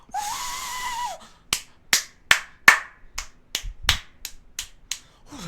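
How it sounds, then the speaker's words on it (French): About ten sharp hand claps in an uneven burst after a short electronic tone, celebrating the completion of the Roblox horror game Slaughter; the claps are close and crisp, with no voices. "Oh, je m'applaudis là. Là, je m'applaudis."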